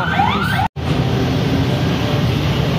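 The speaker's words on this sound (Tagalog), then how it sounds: "Ambulansya pa, madaan niya ambulansya." An ambulance siren passes on a street in the Philippines during a December delivery run, its rising and falling wail loud and close over steady traffic noise, with a brief dropout near the start.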